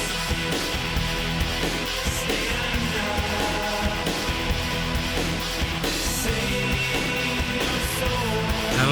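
An original version of a song from an album plays back from compact disc as a dense, continuous full-band music mix, steady and fairly loud throughout, with no voices over it.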